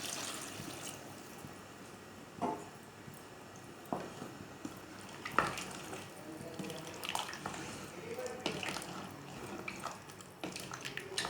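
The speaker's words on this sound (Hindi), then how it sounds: "ये पानी डाल लें।" Water poured into a cooking pot of frying dal, giving an uneven splashing and trickling with scattered clinks and drips, close and moderately quiet, with no talking over it.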